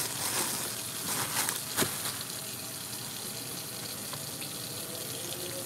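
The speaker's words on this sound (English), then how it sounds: "I gotta wash my lettuce, y'all" Tap water runs steadily into a kitchen sink while lettuce is washed, a constant close hiss of flowing water with a few faint clinks and splashes near the start.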